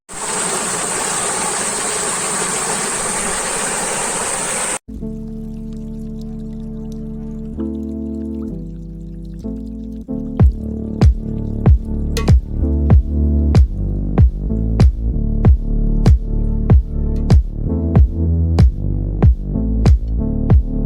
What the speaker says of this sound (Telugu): వాటర్ సౌండ్ వినండి.